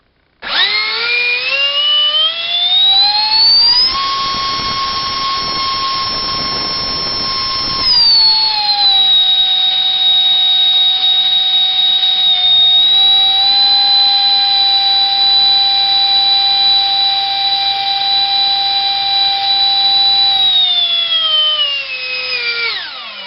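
A GoolRC 2968 3800kv 64mm electric ducted fan motor on a thrust test spools up to half throttle. It gives a loud, steady, high-pitched whine that holds for about twenty seconds, then winds down.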